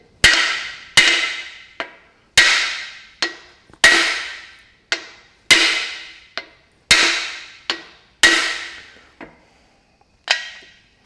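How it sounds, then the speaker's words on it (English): Hard, ringing hammer blows drive dry cylinder liners into the engine bore of a Massey Ferguson 65 tractor. There are about fifteen close, loud metallic strikes in uneven pairs and singles, each decaying quickly before the next. "You'll notice I use a big hammer."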